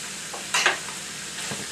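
Hot sauce mixed into beef cooking over a medium flame, a steady soft sizzle with one brief splashy scrape midway and a faint knock near the end, close and without voices.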